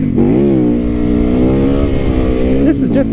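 A motorcycle engine revs hard and close while the rider pulls wheelies outdoors. The engine holds a loud, steady droning roar that rises and falls slightly throughout.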